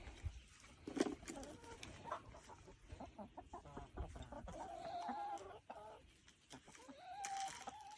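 Laying hens cluck outside in a Jamaican backyard, a scattered run of soft clucks and brief rising calls from several birds, close but fairly quiet, with no talking.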